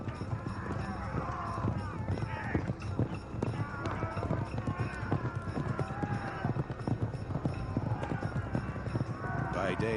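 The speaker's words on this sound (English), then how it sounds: "The signal for attack is sounded, and the chariots charge." Horses and chariots charge in an ancient Assyrian battle, a dense, continuous rumble of pounding hooves and rattling wheels with occasional whinnies, loud and steady throughout.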